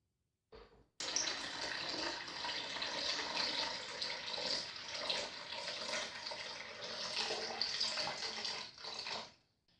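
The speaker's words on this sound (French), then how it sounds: "Là, je verse mon eau." Water poured into the reservoir of a Moulinex Subito filter coffee maker, a steady close splashing stream running for several seconds before tapering off.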